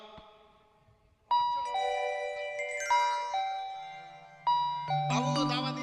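Electronic doorbell chimes, pressed with a stick, ring out in a series of bright melodic tones, one tune following another, loud and close, ending with a richer buzzing chime.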